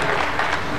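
Crowd applause at an outdoor celebration marking the 50th anniversary of a Bolivian miners' cooperative federation in La Paz, a short, loud, dense burst of many hands clapping.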